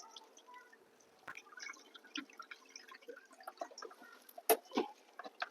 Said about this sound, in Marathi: आता गहू भिजलेले आता आपण याचं जे वरचं पाणी ते काढून टाकूया